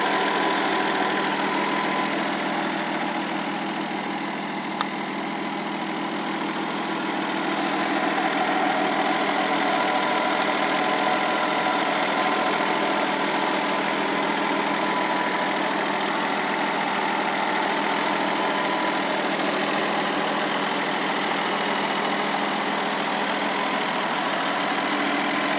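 A 1990 Nissan Skyline sedan engine idles steadily and continuously for the whole stretch, close up and fairly loud, with no speech over it.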